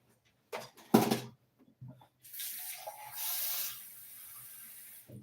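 Filtered water runs from a tap into a measuring container in the kitchen while baking a chiffon cake, a soft hiss and trickle lasting a couple of seconds after some quiet handling clatter.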